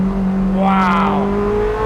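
A Koenigsegg supercar drops down through its gears with a steady engine drone and a brief rising then falling rev swell in the middle, heard close.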